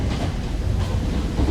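Riding inside a Japanese metro train: a continuous loud rumble of wheels and car body with a faint rhythmic clatter, no voices.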